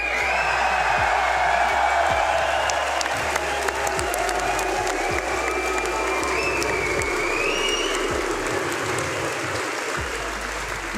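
Crowd at an esports Rainbow Six Siege major in Manchester applauding and cheering in a sustained roar, with whoops rising above the clapping and a low rhythmic thump underneath.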